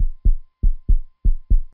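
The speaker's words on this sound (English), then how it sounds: "he feels his heart beating more and more" Heartbeat sound effect: three paired lub-dub thumps, deep and booming, evenly spaced in a steady rhythm with silence between, close and loud, no voices.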